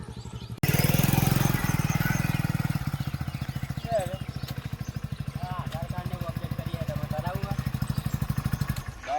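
A motorcycle engine starts and idles nearby with a fast, steady putter, loud and continuous, while people talk over it.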